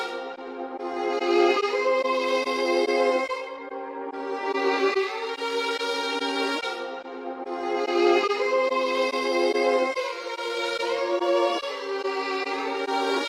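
A dark orchestral drill sample, pitched down two semitones and chopped in Fruity Slicer, plays without drums as swelling sustained string-like chords that change in regular blocks every couple of seconds, loud and alone.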